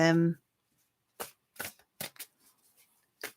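A brief voice at the start, then a handful of crisp, separate riffles of tarot cards being shuffled at irregular intervals, close and fairly quiet.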